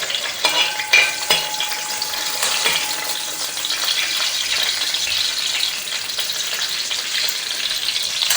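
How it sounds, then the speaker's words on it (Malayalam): Green chillies and curry leaves sizzle loudly in hot oil, a dense continuous crackle with a few stirring clinks near the start, close and steady throughout. "ഒരു 3-4 കറിവേപ്പിലയും കൂടെ ഇട്ട് കൊടുക്കുക ഇന്നത്തേക്ക്."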